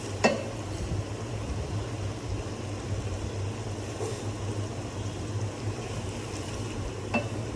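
Ginger and garlic paste fries in a pan while chicken rezala is being made, a soft continuous sizzle with a couple of sharp utensil clinks.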